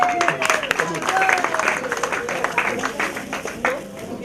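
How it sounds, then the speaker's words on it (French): Children applaud a correct quiz answer at a thanksgiving event with orphans in Gabon, a burst of scattered clapping close by, with voices and background chatter mixed in. "on applaudit pour elle."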